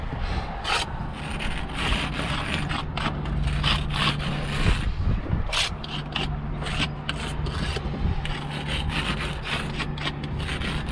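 A worn sponge rubs back and forth across a wall surface on a gable, making a steady, continuous rasping scrape that is close and fairly loud, with no talk over it.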